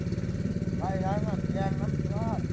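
A motor-driven water pump drains water out of a field beside a shrimp pond, its engine chugging steadily and loudly up close while someone talks over it.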